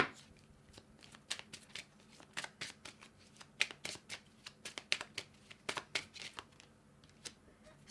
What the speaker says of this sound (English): I'm just going to get 1 or 2 cards from my Kipper deck